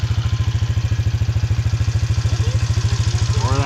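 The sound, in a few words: motorcycle engine revving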